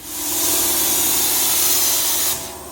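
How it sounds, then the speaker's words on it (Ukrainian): A plasma cutter cutting pipes at a farm yard with combines, a loud steady hissing roar with a faint hum that swells in, holds, and cuts off abruptly near the end, close by and without talk. "Плазморез працює."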